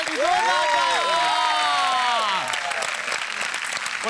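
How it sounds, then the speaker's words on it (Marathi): Loud studio audience applause on a Marathi TV comedy show set, steady clapping that fills the clip, with bright musical tones and sweeping effects layered over it. "मुक्ता बर्वे यांच्यासाठी जोरदार टाळ्या"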